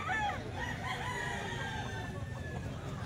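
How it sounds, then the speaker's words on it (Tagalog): A Golden Boy Sweater gamecock belonging to Busperi crows briefly amid steady clucking and crowing from many other birds close by, in a noisy poultry sale setting. "Manok ni Busperi to."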